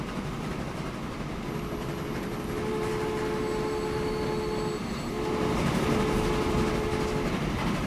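A train runs on a railway in Transport Fever 2 with a continuous rumbling rail roar and thin sustained squealing tones from the wheels. The sound grows slightly louder toward the end and carries no talking.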